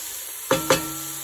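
Chopped vegetables for lentil soup sizzle steadily in a hot pan, with two quick stirring scrapes about a fifth of a second apart, close and clear.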